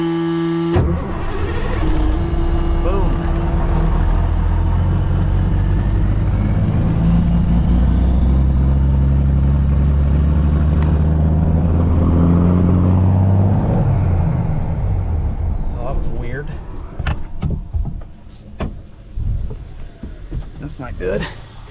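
A cabover truck engine races with its throttle stuck open, a loud sustained roar that climbs and falls in pitch before cutting out, followed by clanks and rattles while people talk over it.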